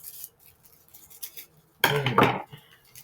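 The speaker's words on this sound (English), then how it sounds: "All right, busting out the scissors, I guess." Scissors cut through cheese advent calendar packaging: faint scattered ticks and rustles, then one loud half-second burst of crinkling, snipping plastic, close and alone.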